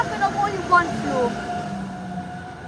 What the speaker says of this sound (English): the train just came, honked at us.